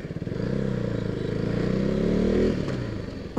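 A KTM RC 390 motorcycle engine pulls steadily under throttle in city traffic, close and loud with a rising tone, then cuts back abruptly near the end.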